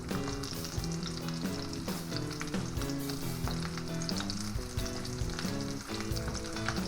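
Potato and vegetable pancakes fry steadily in hot oil, a continuous sizzle running throughout beneath a layer of music.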